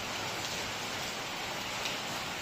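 Heavy rain pours steadily onto a damaged, leaking sheet roof beside a Konkan village temple, a dense, unbroken wash of noise with no gaps, rhythm or voices.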